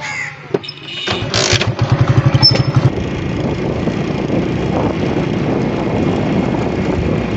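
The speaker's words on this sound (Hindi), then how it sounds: "मोटरसाइकिल हमारा पहले ही बाहर खड़ा है, इस पर बैठ के चलते हैं गांव से बाहर" A motorcycle starts up and rides out of a village, a few quick revving pulses at first giving way to a steady loud engine drone that carries on to the end, with no voices.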